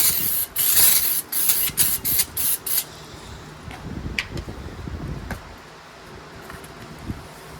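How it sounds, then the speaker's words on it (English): Brake cleaner from an aerosol can hisses in a rapid series of short, sharp spray bursts inside a vehicle's differential cover, followed by softer rustling and handling noises with no talk. "you wanna take some brake cleaner and spray the inside just to clean it out really well"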